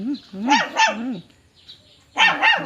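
A dog barks sharply in two quick bursts, pauses briefly, then barks twice more, close and clear.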